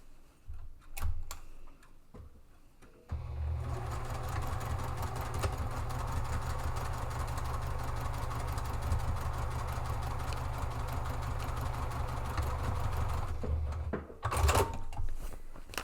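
A sewing machine runs steadily for about ten seconds, stitching straight across the base of a drawstring purse to form its depth, with a low motor hum and rapid ticking, and handling clicks before and after.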